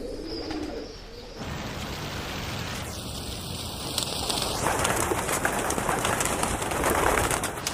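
Pigeons coo softly inside a grand dovecote built by an Austrian emperor, their murmuring calls layered over a steady, hissing background like light rain, growing slightly louder toward the end.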